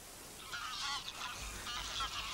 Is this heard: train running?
no